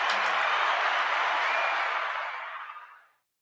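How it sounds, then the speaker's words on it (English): A round of applause from a small studio audience on a boxing talk show, close dense clapping that holds steady and then tapers off and stops after about three seconds. "Let's give everybody a round of applause."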